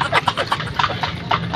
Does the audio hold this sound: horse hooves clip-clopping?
yes